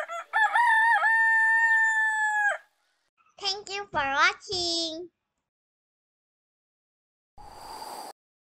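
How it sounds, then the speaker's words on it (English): A rooster crows in a children's animal song: a long sung crow followed by several short, loud crowing calls over music, then a brief noisy burst near the end. "A beautiful rooster singing very loudly."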